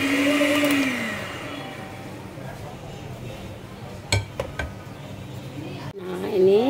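Zebra cake batter with melted butter is mixed in a bowl, starting with a loud whirring mixer that fades, followed by a few light clinks and taps of utensils against the bowl, close by.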